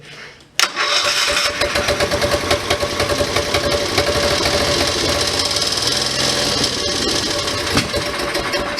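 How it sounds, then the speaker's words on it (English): A Kohler K301 engine on a Case 222 tractor, partly missing a piston and running on choke, catches abruptly and then runs loud and close with an uneven, rattling, pulsing rhythm that continues steadily to the end. "Kind of seems like she only wants to run with the choke on"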